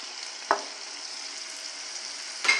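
Carrot frying in melted margarine in a pan gives a steady, close sizzle, broken by two brief clatters of stirring or adding food, with no one speaking.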